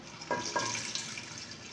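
Water pours in a soft, steady stream into a cooking pot of mutton with spices for karela gosht, with a couple of brief splashes near the start.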